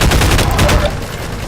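Loud, continuous automatic gunfire in the video game Half-Life 2, a dense run of rapid shots rattling close up throughout the short moment.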